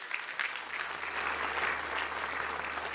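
An audience at a political gathering applauds steadily throughout, a dense, sustained wash of clapping hands at even loudness with no break.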